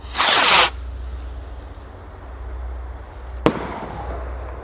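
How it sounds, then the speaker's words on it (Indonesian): A small Roman candle firework launches with a loud, hissing whoosh lasting about half a second, followed a few seconds later by a single sharp, close crack that trails off into outdoor background noise. "di sini ada roket Roman Candle"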